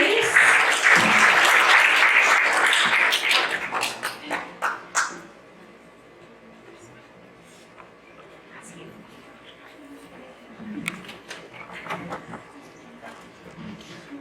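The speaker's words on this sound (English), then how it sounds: "Can we just give the Lord a big clap of praise?" A church congregation claps in praise at a Sunday service, a loud dense burst of applause for about five seconds that fades out, followed by quieter room sound with scattered voices.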